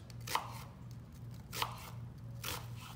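A knife dicing an onion on a cutting board makes three distinct chopping thuds spaced about a second apart, each with a crisp crunch, over a low steady hum.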